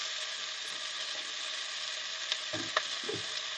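Carrots and onions fry in olive oil, a steady close sizzle that stays loud throughout, broken near the end by a few soft stirring knocks; no one talks.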